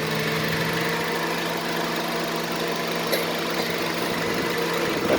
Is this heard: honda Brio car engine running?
yes